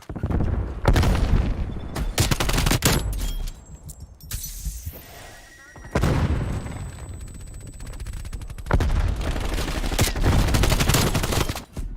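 Sentry turret gunfire in a video game, rapid bursts of loud automatic shots coming in several clusters separated by short pauses, with booming impacts mixed in.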